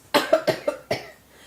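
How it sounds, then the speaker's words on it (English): A person coughing, with a quick run of four or five dry, harsh coughs close up, ending with one more separate cough and a faint breathy tail. "Around Thanksgiving, the coughing got worse."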